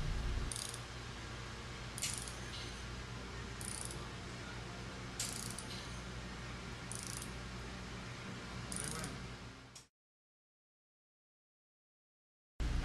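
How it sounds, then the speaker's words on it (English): An adjusting screw on a pressure reducing valve is turned, giving a steady faint mechanical grinding with periodic ratchet-like clicks for about ten seconds before stopping abruptly into silence. "turn the adjusting screw clockwise to the desired pressure level"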